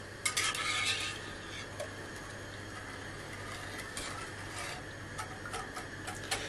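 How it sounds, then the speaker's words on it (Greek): A spoon stirs cream, milk and syrup in a pot over the heat, giving soft repeated scraping and clinking strokes against the metal at close range, with a steady low hum behind and no talk. "Ανακατεύουμε, να ζεσταθεί καλά το γάλα, να αρχίσει να πίζει η κρέμα μας."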